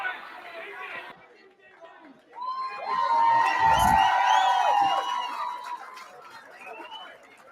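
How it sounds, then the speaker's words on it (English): A boxing event crowd at a bar-style brawl grows loud, shouting, whooping and cheering in a swelling roar that peaks midway and then settles into chatter. "As you can hear, this crowd's already getting amped up."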